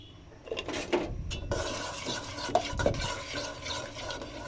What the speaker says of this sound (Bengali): আবারও নাড়তে হবে, জালটা একটু কমাই দিয়েছিলাম, বাড়াই দিলাম।